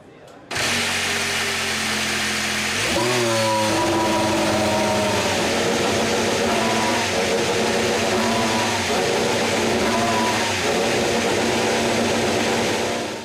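A Mercedes Formula 1 engine runs steadily at a loud, close idle, then revs up sharply and holds a higher droning pitch with several rises and dips before settling. No one talks over it.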